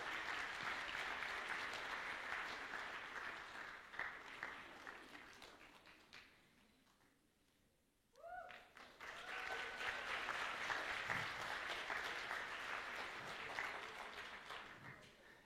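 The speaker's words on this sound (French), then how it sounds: "On peut bien l'applaudir." An audience at a fantasy convention cosplay contest applauds a cosplayer on stage. Sustained clapping dips briefly to near quiet, then swells again into a full round with scattered whoops.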